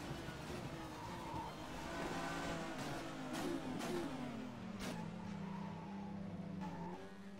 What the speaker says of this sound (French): On est au bout de la ligne droite, on est au rupteur ici et on relance une nouvelle fois la mécanique.